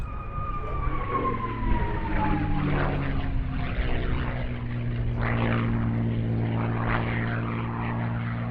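The P-51 Mustang 'Frances Dell', a fighter plane, flies past at the Shuttleworth Festival of Flight airshow in the UK, its propeller engine droning loud and sustained, with a falling pitch as it passes.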